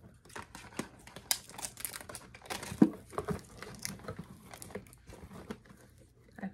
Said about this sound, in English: Let's see, I gotta use my scissors.